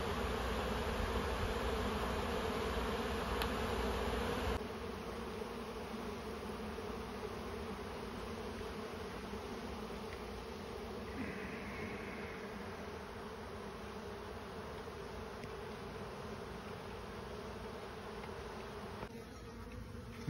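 Honeybees from a colony being cut out of a space and collected in a bee vac, making a steady, close buzzing drone that holds for the whole stretch, louder at first, then slightly softer.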